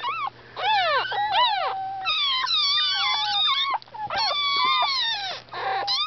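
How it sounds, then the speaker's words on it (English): High, thin whimpers and squeals from five newborn puppies, overlapping in rising and falling cries, close by and continuous with brief pauses. "our 5 new puppies."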